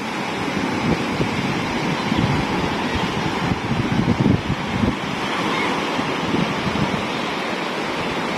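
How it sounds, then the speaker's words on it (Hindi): Sea waves breaking on a beach in Thailand, a loud, continuous roaring wash of surf with wind buffeting the microphone and no talk. "ये देखें जी कितनी प्यारी लहर"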